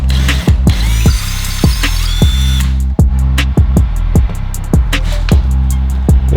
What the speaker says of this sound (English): I'm gonna drill a hole first for the wall anchor.